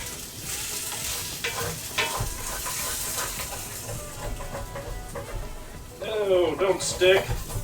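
Potatoes frying in a generous amount of oil in a pan are stirred and scraped, giving a steady close sizzle with intermittent stirring clatter, while a voice talks over it.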